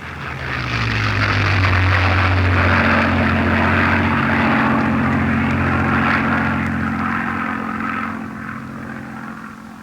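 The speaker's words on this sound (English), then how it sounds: "The Spitfire, an 8-gun single-seater, probably the world's fastest fighter aircraft, is now being mass-produced for the RAF." Spitfire fighter aircraft, an eight-gun single-seater, passing overhead with a loud droning propeller engine that swells, holds steady and then fades with a falling pitch, heard alone.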